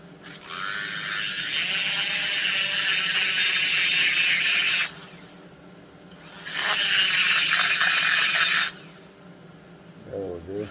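A grinder ports the cylinder of a McCulloch Super Pro 125 chainsaw, producing two long, loud, steady bursts of high rasping whine that break off abruptly. A quieter gap separates the two bursts.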